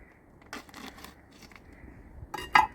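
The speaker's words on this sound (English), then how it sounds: "I'm gonna go ahead and cut this pack of meat here open." Scissors or a blade snip and tear open a plastic pack of pork shanks, with a few close, crisp cutting and crinkling bursts separated by quiet pauses.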